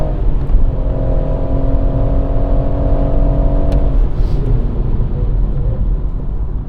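A BMW M140i lapping the Goodwood track gives a loud, steady engine drone with a tonal whine that drops away partway through, heard close and without talk.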